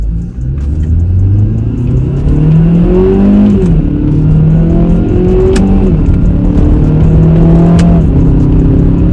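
A Hyundai Veloster Turbo engine revs hard and climbs through the gears of its dual-clutch transmission, pitch rising then dropping sharply with each quick shift, loud and close with no voices.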